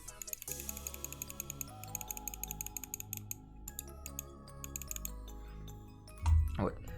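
An old computer mouse clicks repeatedly up close in a steady run of sharp, light ticks, with a louder bump near the end.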